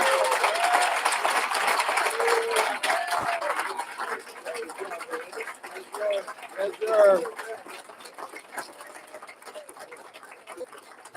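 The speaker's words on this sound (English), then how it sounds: "Please give Kaylin another big, gigantic round of applause." Audience applause at a HOPE for Prisoners graduation ceremony, a broad wash of clapping strongest at first and slowly thinning, with voices and scattered cheers mixed through it.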